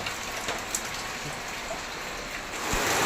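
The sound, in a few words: heavy rain pouring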